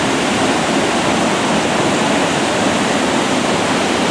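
River water rushes over rocks in a steady, loud, close roar of broadband noise, continuous throughout with no voices.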